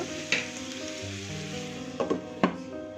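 Tomatoes cook in a pan of dry shrimp curry with a steady close sizzle and bubbling, broken by a few sharp clinks and scrapes of stirring, with no talking.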